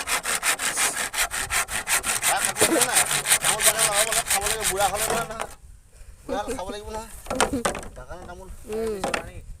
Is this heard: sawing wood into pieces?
yes